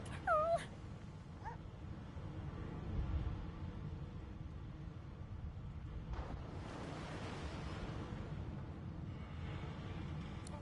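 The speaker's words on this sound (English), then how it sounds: "The dog whines." A dog whines briefly at the start in Divinity: Original Sin 2, a thin high whimper followed by a faint second cry, then a long wash of soft wind and surf-like ambience with no talk.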